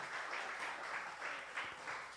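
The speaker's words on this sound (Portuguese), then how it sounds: "Pode aplaudir ao Senhor pela vida deles aí." A church congregation claps during a service, a brief burst of scattered applause heard at a moderate distance, with no voices over it.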